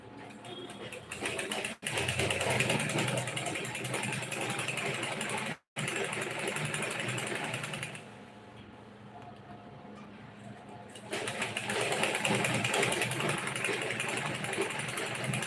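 Sewing machine stitching a garment lining with a half-inch seam allowance, a steady continuous mechanical whir that briefly stops twice and drops quieter in the middle stretch before resuming at full pace.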